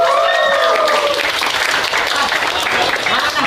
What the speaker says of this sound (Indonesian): Boleh kita sambut dan tepuk tangan yang paling meriah untuk Mr.